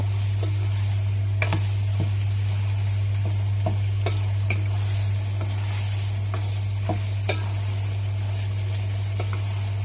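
Seasoning paste with shrimp paste stir-fried for pork belly, a loud steady sizzle with repeated scraping stirs, close and continuous over a low hum, no voices.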